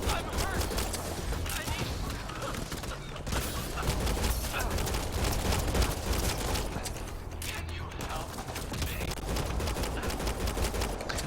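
Sustained bursts of gunfire in the sci-fi shooter Mass Effect Andromeda crackle and rattle continuously at close range, loud and dense throughout with faint mechanical clicks.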